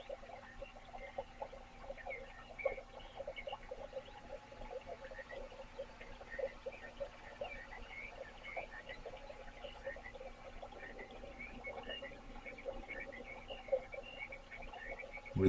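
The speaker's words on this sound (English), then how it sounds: "Maybe some frogs too." Croaking frogs from a white noise sound machine's nature mix, a steady chorus of soft repeated croaks and chirps over a constant low hum, faint throughout and blended with cricket and brook ambience.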